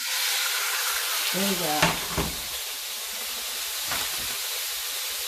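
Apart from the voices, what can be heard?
food sizzling in a too-hot pan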